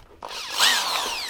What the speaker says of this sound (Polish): wkrętarka, wkrętareczka, która nie wymaga bateryjki, ale ma kabel